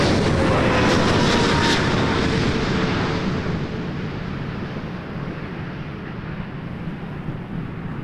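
A regional jet on final approach to land at Toronto Pearson Airport, a loud, steady roar with broadband rumble that gradually fades and settles as it passes, with no talk.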